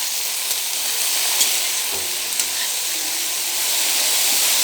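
Tomatoes fry and soften in a hot pan, giving a dense, steady sizzle close by with a few faint stirring knocks.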